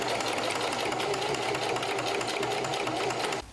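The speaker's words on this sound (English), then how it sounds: "I am trying to achieve right now, or at least that's what I'm telling myself to justify me sewing through this bulk" A sewing machine stitches through thick, bulky layers of thrifted denim jeans being made into a bag, running steadily and loud up close for several seconds before stopping abruptly.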